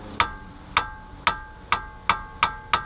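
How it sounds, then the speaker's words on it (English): A big wrench serves as a hammer on a Subaru WRX's brakes in a shop, striking metal seven times in an even, ringing rhythm, each sharp clang decaying quickly, loud and close with no talk. "a nice big wrench works as a hammer"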